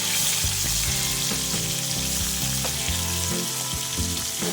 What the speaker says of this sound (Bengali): তো চলো মাছটা ভাজা হোক।